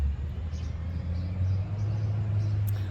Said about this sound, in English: it's a garbage truck if you're wondering what that is, guys